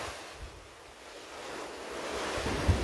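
Waves washing at the water's edge, a soft broadband surge rising and swelling, mixed with wind buffeting the microphone, no voices.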